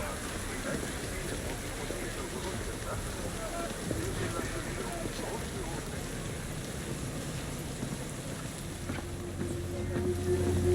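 Steady rain falls in Cyberpunk 2077, a constant hiss and patter in a night city street, running evenly throughout at a low, continuous level.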